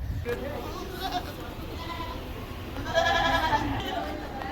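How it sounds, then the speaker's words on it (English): Meat goats bleating inside a goat barn at a fair, several calls rising over a busy background with a person talking nearby. "Now we're in here in the goat barn. These are a lot of meat goats"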